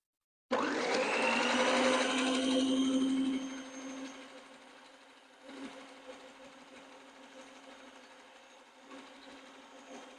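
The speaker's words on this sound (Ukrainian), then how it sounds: "І зараз поставлю на мінімальні оберти міксер і додам шоколад" Electric hand mixer whirring at low speed as melted chocolate is added to whipped cream-cheese batter for a chocolate-cherry pie, a steady close hum that starts abruptly, then drops and softens while the motor keeps running alone.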